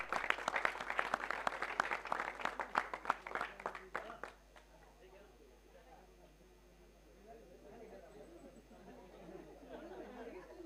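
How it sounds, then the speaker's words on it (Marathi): A crowd at a sports tournament prize distribution claps loudly and rapidly for about four seconds. The applause then fades into a low murmur of chatter and distant voices. "एकदा जोरदार टाळ्या"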